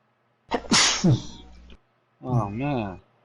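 A single sharp human sneeze bursts out close by, followed after a short pause by a voice speaking.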